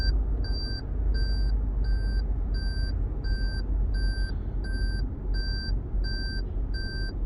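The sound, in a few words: Lexus GS350 warning beeping because trunk is open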